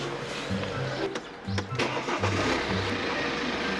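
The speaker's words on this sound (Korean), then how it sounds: "자 엔진이 어떤 소리가 나는지 한번 들어보자고요" A 2013 BMW X3 xDrive 20d diesel engine with about 196,000 km, suspected of a timing chain fault, running near the listener at a steady idle, with low rumble and a few short louder bursts.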